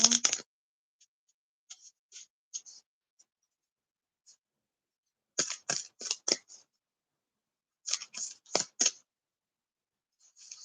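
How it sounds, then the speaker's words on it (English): Tarot cards being shuffled by hand make short crisp rustling and riffling bursts in clusters separated by silent pauses, close and fairly quiet. "And I'm shuffling the cards."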